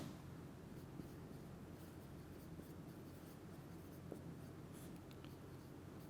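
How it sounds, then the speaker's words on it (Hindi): Faint, continuous scratching of a marker or chalk writing on a board during a chemistry lecture, steady strokes with small taps over a low room hiss, no speech. "तो मैं यहाँ पे लिख देता हूँ"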